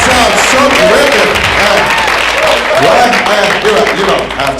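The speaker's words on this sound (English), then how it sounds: "You don't have to clap." A comedy club audience applauds and cheers loudly, a thick continuous roar of clapping mixed with whoops and shouting voices that stays strong and eases off only slightly at the end.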